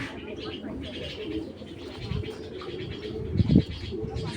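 Pigeons coo in low, throaty bursts, a couple of soft rolling coos from a male Homing Python pigeon nearby, while someone talks over them.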